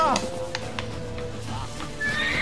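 A horse in The Witcher 3 gives a short neigh amid game music and background dialogue, with faint hoofbeats nearby.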